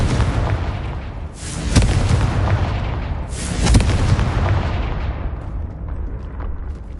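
A Confringo spell explodes in the Hogwarts Legacy video game, two loud booming blasts a couple of seconds apart, each with a crackling burst that fades into a long rumbling tail.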